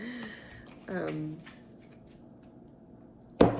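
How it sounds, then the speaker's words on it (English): Tarot cards are shuffled by hand in quiet, close riffling and sliding bursts, with a speaking voice at times and a sharp tap of the deck near the end. "I'm doing all my shuffling and everything in real time, like no pre-shuffle"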